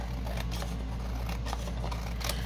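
Scissors trimming down a freshly pulled gelli plate print in acrylic paint, with several soft close snips spaced through a quiet room hum.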